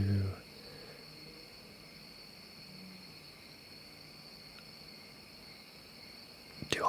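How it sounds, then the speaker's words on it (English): Crickets chirp in a steady, high, continuous drone throughout, faint but constant behind quiet room noise, with brief louder sounds at the start and end. "I'm glad the crickets are really good"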